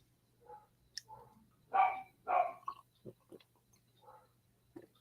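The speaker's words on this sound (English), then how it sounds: "He's barking at the rubbish truck, Shelby." A dog barks at a rubbish truck, giving a few short, separate woofs and yips at close range with gaps between them and a faint steady hum underneath.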